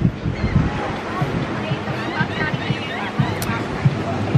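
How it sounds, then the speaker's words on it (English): Surf rolls onto a calm stretch of beach in Cancun's Hotel Zone, with wind buffeting the microphone and distant chatter mixed under the steady wash of small waves. "there are some waves, definitely."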